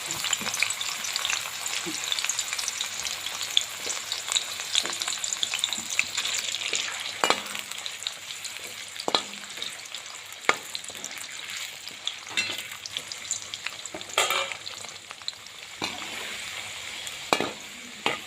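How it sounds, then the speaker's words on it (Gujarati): Raw banana pieces frying in hot oil: a continuous close crackling sizzle, with occasional sharp clicks and taps of a utensil against the pan throughout. "તો તેલ ગરમ થાય એટલે આપણે કેળા ફ્રાય કરી દઈશું"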